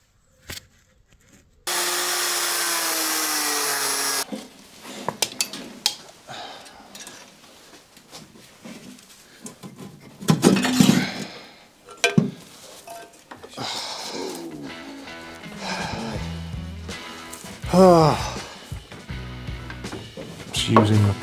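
Scraping, creaking metal and clanks as a bolt is turned with the prop shaft of an MGB GT used as a large spanner, during engine and gearbox removal; irregular close-up bursts follow a steady whirring stretch.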